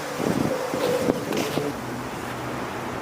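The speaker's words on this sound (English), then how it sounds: "It's kind of windy." Wind buffets an outdoor microphone in gusty low rumbles, with a faint buzzing tone and light rustling mixed in, moderately loud and continuous with no voices.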